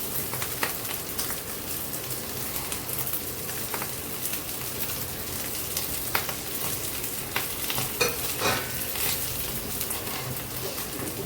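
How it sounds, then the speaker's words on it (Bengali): Lentils, fried earlier, crackle and sizzle in hot ghee in a pot for a one-pot rice meal, a steady close hiss dotted with small pops and stirring scrapes, no voice. "যে ডালটা ভেজে রেখেছি সেই ডালটাও এখন আবার দিয়ে দিচ্ছি, ঘিয়ের সাথে একটু ভেজে নিচ্ছি"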